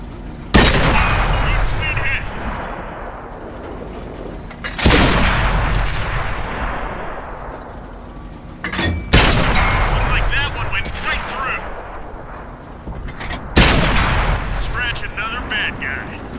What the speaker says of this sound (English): These guns are really set up to shoot HE, high explosive shells, so we'll switch over to HEs.